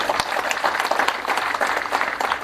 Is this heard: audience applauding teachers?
yes